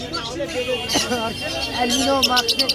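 People talk over bird chatter at a busy pet bird market in Serampore, with a quick run of sharp, high chirps from exotic pet birds near the end.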